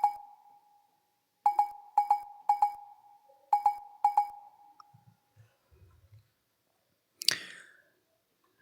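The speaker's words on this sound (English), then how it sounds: "you can hear the bell" Bright bell hits from a percussion track ring out alone in a stuttering rhythm, five quick strikes in pairs and singles with short decays, followed by faint low taps and one final sharp metallic splash.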